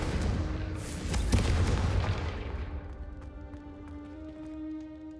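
A Confringo blasting spell explodes in Hogwarts Legacy with a loud booming burst early on, then fades into a lingering, shimmering magical ringing.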